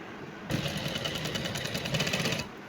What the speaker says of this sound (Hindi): अब यहाँ पर सिलाई करेंगे पूरा, यहाँ नीचे तक